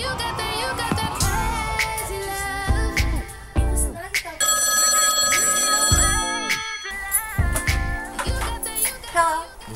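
A telephone rings in repeated bursts over music and scattered voices, with tones in the foreground.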